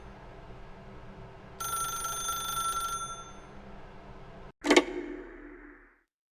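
A telephone rings in The Stanley Parable: Ultra Deluxe, a bright electronic ring lasting just over a second, followed by a sharp click as the receiver is picked up, then quiet room tone.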